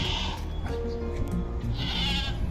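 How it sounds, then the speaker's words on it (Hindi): Goats bleating in a village in Nandgaon, several calls rising and falling over a couple of seconds at moderate distance, with faint background murmur beneath. "देखो बकरियों की आवाज़ आ रही है"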